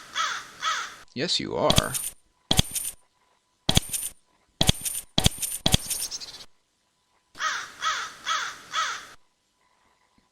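A crow in the video game Nethergate caws in a series of harsh, repeated calls, short bursts spaced across the scene with gaps of silence between them, close and clear, while a person speaks briefly over it.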